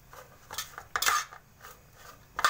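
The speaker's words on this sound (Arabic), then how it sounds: "نخلطها كويس قوي عشان كلها تبقى فيها طعم البهارات اللي احنا عملناها" A spoon mixes seasoned pasta with spices in a bowl, giving a few brief clinks and scrapes, close and moderately loud, with quiet pauses between them.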